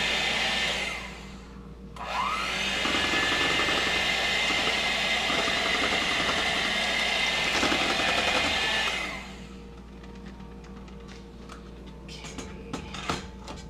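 An electric mixer with beaters whirs through pumpkin cheesecake batter, a loud steady motor drone starting at about two seconds and stopping at about nine, followed by quieter clinks and handling sounds.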